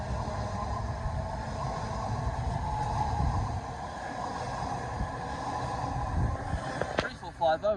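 A Class 345 electric train rumbles through Ealing Broadway station, a steady low rolling drone with rail and wheel noise that fades midway, then a sharp clank and brief voices near the end.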